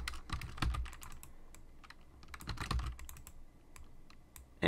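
Computer keyboard keys clatter in quick irregular bursts of close, distinct clicks while a 3D face is modelled in Blender, with heavier thumps near the start and middle and a brief louder burst at the very end.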